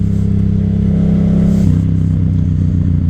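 Yamaha FZ07 motorcycle engine while riding, a loud, close, steady throbbing drone whose pitch eases down partway through, with light mechanical clatter and no talk.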